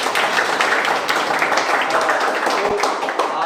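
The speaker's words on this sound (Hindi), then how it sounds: "जोरदार तालियां होनी चाहिए।" Loud, dense clapping from an audience at a birthday celebration, a continuous crackling wash of hands that holds steady for a few seconds.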